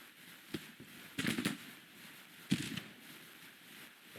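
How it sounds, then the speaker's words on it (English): Civil War artillery fire in the strategy game Grand Tactician: scattered faint distant booms and crackling bursts, a few isolated pops and two short clusters, muffled over a low ambient bed. "We do have artillery there to try to help."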